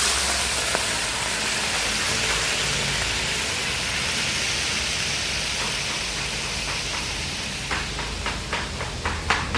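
Steady rain falls outdoors during cold wet weather while vegetables and pork cook nearby, a dense even hiss throughout with a few faint clicks and taps toward the end.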